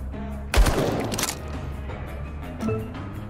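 A Thompson submachine gun fires in the Empire of Sin game, one sharp loud burst of rapid shots up close followed by a fading tail and a softer later shot over a quiet game backdrop.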